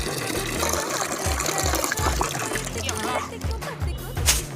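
Steady splashing and pouring water runs continuously onto garden plants, as if from a hose or can, fairly close and loud with some faint voices underneath.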